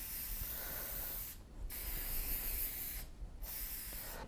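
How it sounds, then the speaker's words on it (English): Workable fixative is sprayed lightly over a pastel painting on paper in three steady hissing bursts separated by two short gaps, close and fairly quiet. "What I just did is I just put a very light spray of workable fixative."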